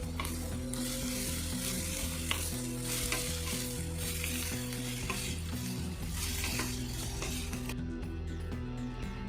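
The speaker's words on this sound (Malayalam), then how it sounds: "അപ്പോൾ ഇതും കൂടി ചേർത്ത് കൊടുത്ത് നന്നായിട്ടൊന്ന് വഴറ്റിയെടുക്കാം" Chopped shallots sautéing in a pan for kadai chicken, a steady close sizzle with soft stirring scrapes throughout and no talking.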